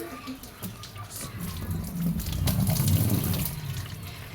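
Water pours from a pipe into a container outdoors, a continuous splashing rush that grows slightly louder and fuller, with low gurgling underneath and a voice talking briefly nearby.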